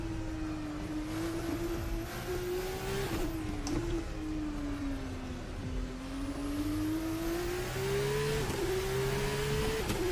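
A Formula Hybrid race car engine in the racing simulator Race Sim Studio holds a steady high whine, rising and dipping in pitch as it revs and shifts, loud and continuous with no talking.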